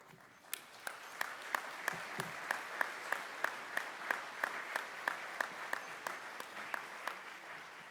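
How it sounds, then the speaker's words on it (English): Applause at a DAV business session for a membership inductee: a regular, rhythmic beat of about twenty evenly spaced claps over a faint room murmur, sounding like one or a few people clapping in time. "Please give a round of applause for this year's inductee, Romaine Barnett."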